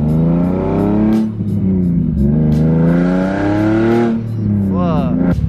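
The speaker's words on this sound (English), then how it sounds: "It's the loudest car I've ever heard." A bone-stock Nissan Skyline engine revs hard and very loud close by, climbing and falling in long sweeping pulls with a brief dip between, while people talk over it.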